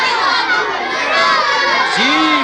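Schoolchildren shout noisily together in a classroom, a loud continuous crowd of overlapping young voices with one rising cry standing out near the end.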